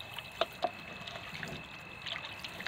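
Cut pieces of desi (country) chicken being washed in water in a village kitchen, with quiet trickling and dribbling and a few brief splashes, faint and close with no talking.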